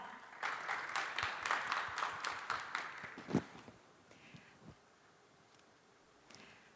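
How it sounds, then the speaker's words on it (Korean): Audience applause for a presenter at a Korean innovation fair, a soft burst of many hands clapping that fades after a few seconds, leaving scattered claps and quiet room noise. "여러분 힘찬 박수 부탁드립니다"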